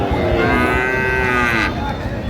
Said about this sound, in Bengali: সেরা মানের ষাঁড়।